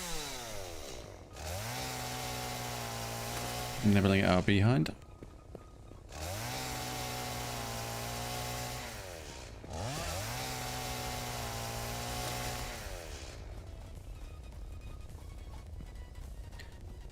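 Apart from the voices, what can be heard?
chainsaw in the video game Satisfactory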